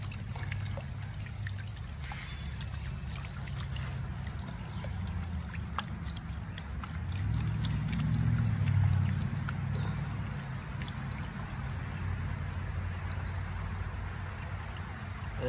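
Water sloshes and trickles in a gold pan at a creek, a steady close liquid churn with scattered small clicks of gravel, briefly swelling louder in the middle before settling back.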